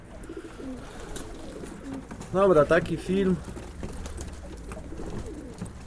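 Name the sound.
pigeons cooing at a pigeon market in Zgierz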